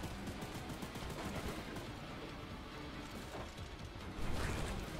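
Gunfire from a normal gun in the Choo Choo Charles video game, a dense run of sharp shots over a loud continuous game din, with a heavier burst near the end.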